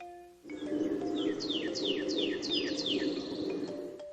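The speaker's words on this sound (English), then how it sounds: "This is the sound of a cardinal." Over a steady broadband hiss, a cardinal repeats a series of quick, clear downslurred whistled notes, fairly faint and evenly spaced.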